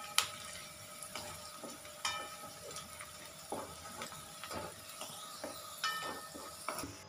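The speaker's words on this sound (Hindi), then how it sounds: "वन टीस्पून धनिया पाउडर वन टीस्पून मिर्च पाउडर इसे भी अच्छी तरह भून लीजिए" Coriander and chili powder roasting in a pan for a capsicum jhunka, with a quiet, steady sizzle and intermittent scraping stir strokes, no one talking.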